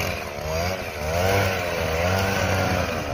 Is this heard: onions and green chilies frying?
no